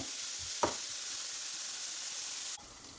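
Onions sauté with salt in a pan, giving a faint, steady hiss of frying with a single light clack of a utensil as they are stirred, the sizzle dropping slightly near the end.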